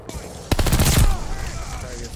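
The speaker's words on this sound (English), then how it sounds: "I haven't used this gun in a while." Rapid automatic gunfire from a video game gun rings out in a dense, loud burst lasting about half a second, then fades into a lingering echo and quiet background.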